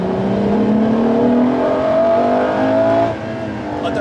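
A Ferrari LaFerrari's engine pulls hard in fourth gear, a loud rising tonal roar climbing steadily from inside the car before easing off near the end.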